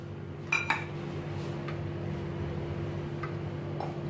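Black chickpeas are tipped into a metal pressure cooker in a home kitchen, giving two sharp metallic clinks near the start and then a few faint taps over a steady low hum.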